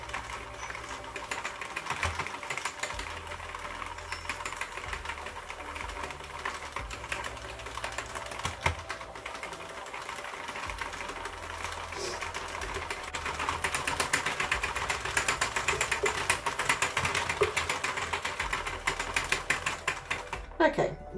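Sentro/Addi circular knitting machine cranked through rows of waste yarn, a quiet, continuous clicking and plastic rattling with a steady rhythm, close by and soft, with some speech around it.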